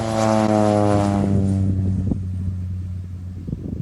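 A crop-spraying propeller plane flies low over a farm field, its strong droning engine loud and steady at first, then gradually fading as it passes away.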